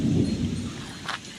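Heavy Konkan monsoon rain with thunder in dark skies: a deep, rumbling roll of thunder swells up close and then fades under a soft wash of falling rain.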